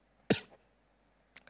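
A single sharp cough from a woman preaching a sermon, close and fairly loud, followed a second later by a softer short throat sound, otherwise near silence.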